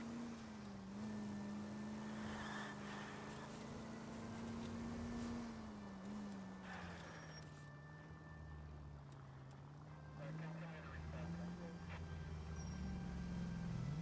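Car engine from the video game L.A. Noire, a steady low drone that rises and dips with speed while driving continuously, fairly loud and constant with wind-like road noise.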